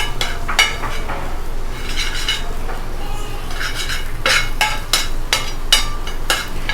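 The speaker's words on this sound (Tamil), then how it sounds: "சால்ட் சேர்த்துட்டு நம்ம நல்லா கலந்து விட்டுடலாம்." Salt is stirred into a simmering egg yolk masala gravy, with repeated sharp metallic clinks and scrapes of a spoon against the pan over a low background hum.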